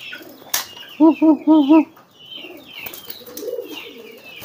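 A restless pigeon flutters its wings in sharp bursts and gives a few clear coos close by, with soft rustling between.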